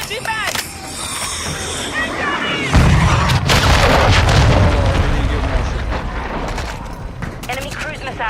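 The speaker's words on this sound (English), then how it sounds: "Friendly cruise missile approaching target" A cruise missile strike explodes in Call of Duty: Modern Warfare II: a heavy, loud boom lands about a third of the way in, and a long rumbling blast follows under scattered gunfire and game voices.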